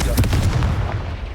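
A Confringo blasting-curse explosion in Hogwarts Legacy, one loud, close, booming blast with a short rumbling tail.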